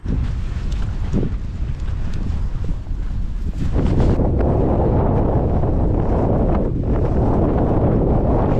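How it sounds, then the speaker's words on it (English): Strong wind buffets a microphone outdoors on a walk with several small dogs, a steady loud roar that surges heavier about halfway through and keeps rushing on with no voices. "The wind is something else, I'll tell you"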